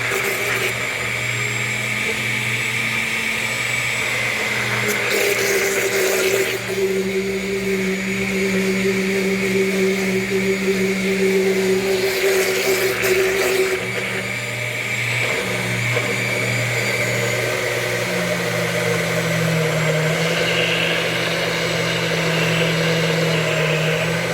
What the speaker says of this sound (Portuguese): eu tô amando esse liquidificador